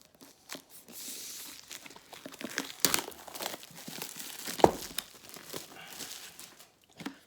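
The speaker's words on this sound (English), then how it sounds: "Let's get this plastic off." Plastic shrink-wrap is peeled and torn off a limited-edition Blu-ray collector's set, giving close, irregular bursts of crinkling and crackling with a few sharp tearing snaps.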